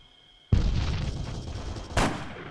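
Video game gunfire in a tactical shooter match: a sudden loud burst of shots that sustains for about a second and a half, then a second sharp blast, close and dominant with no speech.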